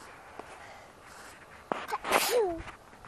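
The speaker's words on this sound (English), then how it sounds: "Did you sneeze?" A single sharp sneeze bursts out midway, close and fairly loud, outdoors near a log and trees where animals are being watched, with a faint rustling background before and after.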